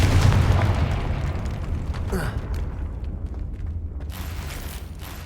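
A Confringo blasting spell in Hogwarts Legacy bursts with a booming impact and a whooshing, crackling mechanical rumble that slowly fades, loud and close.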